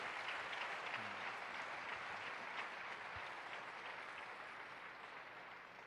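A church congregation applauds in praise, steady dense clapping spread across a large room, fairly faint and continuous throughout with no distinct voices.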